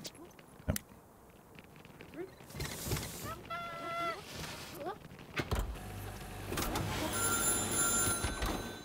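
A telephone in the factory-management game Little Big Workshop rings in short bursts amid mechanical clicks and whirring game sounds, with someone speaking over it.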